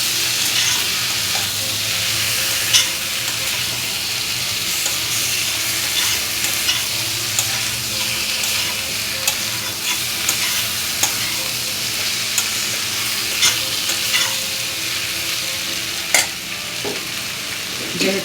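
Boiled taro stirred with already-cooked spices in a pan for a prawn dish, a continuous close sizzle with repeated scraping strokes and occasional clicks of the spoon, steady and alone without voices.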